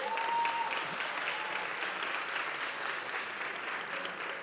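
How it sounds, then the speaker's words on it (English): Steady applause from a crowd, even clapping throughout, heard at moderate distance with no voices standing out. "Give the staff a big round of applause."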